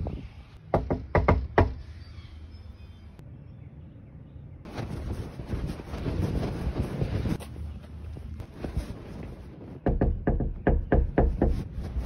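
Knuckles rap on a house door in a residential neighbourhood during a yard-makeover visit, two close bursts of sharp knocks, then wind buffeting the microphone, and a further series of quick knocks near the end.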